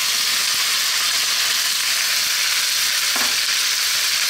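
Eggplant and onions fry in a hot pan for a potato and eggplant curry, giving a loud, steady, close hiss of sizzling oil with a brief soft clatter partway through and no talking.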